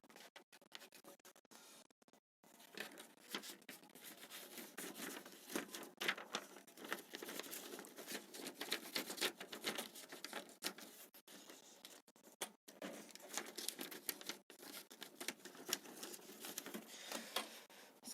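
HP inkjet printer running a test page, a faint rapid patter of print-head passes and paper feed clicks in continuous bursts, quiet and close.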